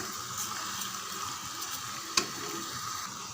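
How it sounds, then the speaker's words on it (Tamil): Spice masala and rock salt fry in a pan for chicken gravy, a steady even sizzle close by with one brief sharp clink partway through. "கல் உப்பு இதுவும் சேர்த்து இன்னும் ஒரு 2 நிமிஷம் நல்லா வதக்கி விடுங்க"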